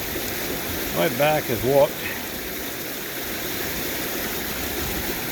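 Steady rush of stream water swirling in a gold pan, a continuous watery wash running throughout with a man's brief tired remark near the start.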